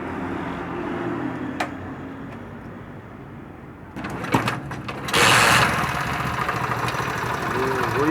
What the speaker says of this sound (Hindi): वही बाइक है, इसकी आवाज़ आप सुने